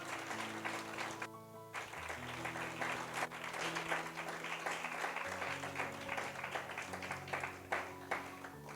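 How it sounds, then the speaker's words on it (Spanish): Church congregation applauding for the Lord, a steady wash of clapping mixed with sustained music tones and organ-like chords underneath, moderately faint and continuous throughout. "Si puedes darle un minuto más de aplauso para el Señor"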